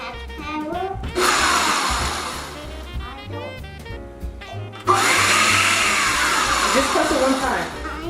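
An electric mixer whirring through holiday cookie dough in a home kitchen, two loud sustained bursts with a pause between them, while a child and an adult talk over and between the runs.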